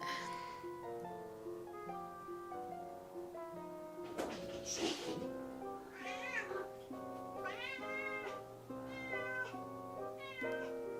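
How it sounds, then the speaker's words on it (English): A cat meows several times in short, rising calls over steady background music, fairly close and clear. "what are you meowing about, huh?"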